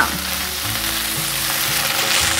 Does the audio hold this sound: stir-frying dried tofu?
yes